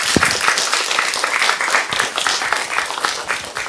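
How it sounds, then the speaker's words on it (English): An audience at a student organizing panel claps in a sustained round of applause, dense and steady throughout with no talk over it. "Let's give them a round of applause."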